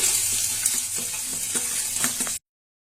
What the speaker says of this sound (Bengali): ওইদিকে ট্যাংরা মাছ ভাজা বসিয়েছি